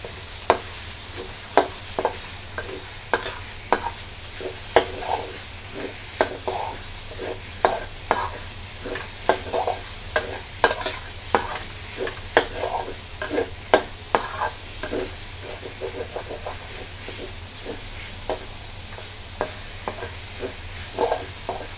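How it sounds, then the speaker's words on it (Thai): Minced pork with garlic and chili stir-fries in a hot pan for a Thai basil pork dish, a steady loud sizzle broken by regular sharp scrapes and taps of the spatula. "ผัดหมูกับไอ้พริกให้มันเข้ากันนะคะ"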